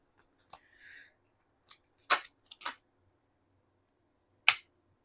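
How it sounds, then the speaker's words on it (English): A tarot card deck being shuffled gently by hand, heard as a few sparse, crisp snaps and riffles of cards separated by quiet pauses, close and fairly faint. "I like to shuffle my decks gently"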